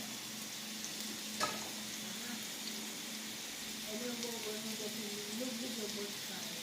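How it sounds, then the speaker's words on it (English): Food sizzles steadily in a hot pan, a constant crackling hiss with one brief clink of a utensil early on. "When you put food in the pan with oil and you hear that sizzle, that's music to my ears."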